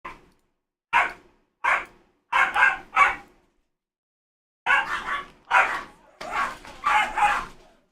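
Several dogs barking in a discord activity game, loud and close, in two bursts: four quick barks, a pause, then a rapid run of five or six more.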